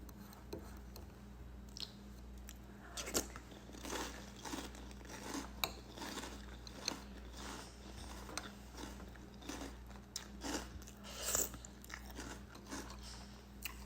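Keto cereal in milk crunched and chewed close to the mouth, with irregular soft crunches and clicks at low volume and no voices.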